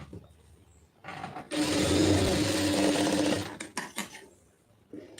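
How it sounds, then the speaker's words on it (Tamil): A sewing machine stitches a lining blouse seam in one loud, close, sustained run of about two seconds, framed by softer handling clicks and taps of fabric before and after. "திருப்பிட்டு இந்த பக்கமாக தையல் போட்டுருங்க"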